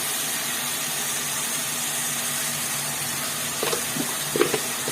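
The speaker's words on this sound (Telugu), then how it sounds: "మోటార్ మోటార్ సౌండ్ అండి అది" A steady low mechanical drone runs throughout like a motor running, with a few faint clinks and knocks near the end.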